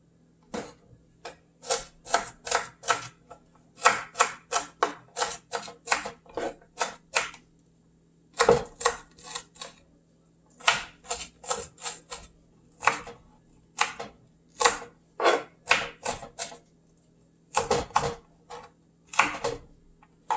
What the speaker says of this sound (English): Make sure you cut your onions into small pieces.